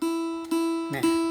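A single plucked first string of a phin lute rings steadily with a bright, buzzing tone, briefly interrupted by a couple of soft touches before sounding again.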